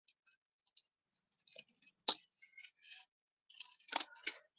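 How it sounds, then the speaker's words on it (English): Scissors snip around painted shapes in short, irregular bursts of close, quiet cutting, with small clicks and pauses between the cuts. "So I'm just going to try and carefully but quickly cut around my shapes."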